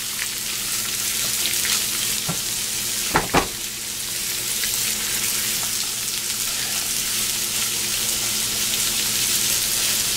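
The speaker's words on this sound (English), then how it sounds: "Now we're going to add our large onion that's been nicely chopped. And we're going to stir this until the onion has gone tender." Chopped onion sizzles steadily in oil in a pan for a slow-cooker cassoulet, a constant bright frying hiss with a couple of sharp utensil clinks near the middle and no talk.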